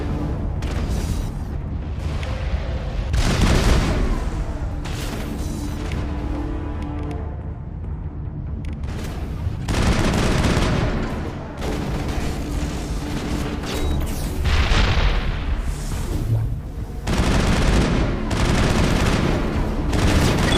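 Heavy gunfire in the sci-fi shooter Mass Effect, Noir Edition, repeated loud bursts and booming volleys with brief gaps between them, dense and close, continuing throughout with no speech.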